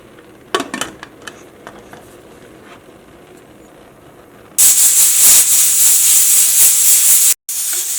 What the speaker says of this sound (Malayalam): കുക്കറിൽ നിന്ന് രണ്ട് വിസിൽ വന്നിട്ടുണ്ട്